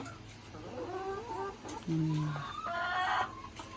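A laying hen clucks and cackles in short, rising calls, fairly close, over a steady background hum.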